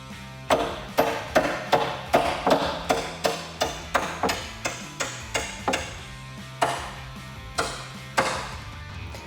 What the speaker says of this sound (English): So you're gonna need a metal hammer, and we can tap the pin into place.